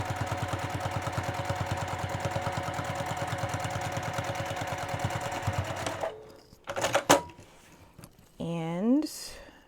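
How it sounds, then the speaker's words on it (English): A sewing machine stitches fabric for a boxy bag with a steady, fast mechanical chatter for about six seconds, then stops; a few sharp handling clicks and rustles follow. "I'm just gonna stitch right on down, back stitch when you start and stop."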